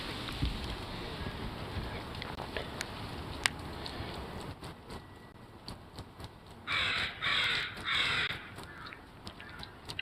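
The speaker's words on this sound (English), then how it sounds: "Oh shit, the crows came back." Crows in a tree caw in harsh, repeated calls, several loud bursts close by, with scattered patters like rain in the background.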